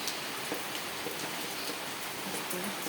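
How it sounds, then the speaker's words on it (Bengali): Steady heavy rain pours down on a street, a dense, even hiss with scattered drop patter that stays constant throughout, with no voices. "বৃষ্টি হচ্ছে, খুব জোরে জোরে বৃষ্টি হচ্ছে।"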